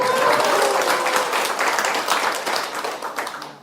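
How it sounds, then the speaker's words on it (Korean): An audience claps for a school principal, a loud burst of applause that stays dense, then gradually thins and fades away. "송계명 교장 선생님께 박수 한번 우리 보내줘야 됩니다."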